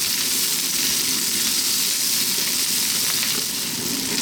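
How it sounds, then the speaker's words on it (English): Garlic, ginger and onions fry on very high heat for mushroom fried rice, giving a loud, steady, dense sizzle that runs unbroken from start to finish with no voices. "Garlic, ginger, onions frying there."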